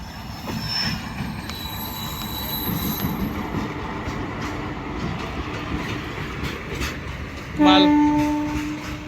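A freight goods train rumbles past near a railway station in a steady roar of wheels on rails, with a short horn blast near the end. Voices are faintly audible beneath the noise.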